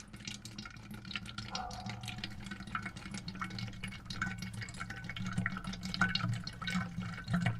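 Diesel fuel drains from the fuel filter of a Jeep Wrangler in a steady thin trickle with fine dripping, faint and continuous throughout.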